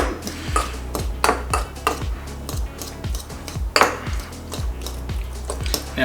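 A fork smashing and folding avocado in a bowl: a steady series of sharp clinks and taps of metal on the bowl, roughly two per second, each with a soft squashing thud, close and alone without speech.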